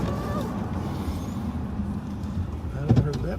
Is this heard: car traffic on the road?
yes